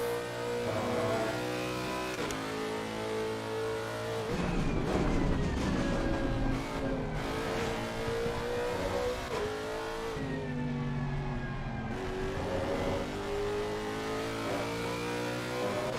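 Race car engine in Assetto Corsa Competizione, revving hard and shifting through gears as it accelerates off a curb, loud and close with steady rising and falling pitch sweeps.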